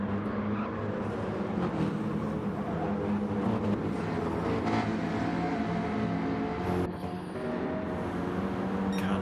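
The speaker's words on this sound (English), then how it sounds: "Big heavy BMW not working well on this infield section." A heavy BMW GT3 race car in a sim racing game at Daytona drones steadily through the infield section, its engine a continuous loud roar with a brief dip near the end, no voices over it.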